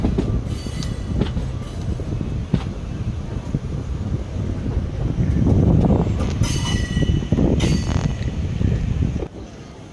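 The Sabari Express rolls through Kerala, heard from inside a general-class coach. Wheels rumble and clatter steadily, metallic squeals rise in the middle, and wind rushes throughout, all fairly loud and continuous.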